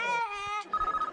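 A telephone rings in a brief electronic burst, a sustained tonal chime followed by quick repeated pulses, fairly faint and heard alone.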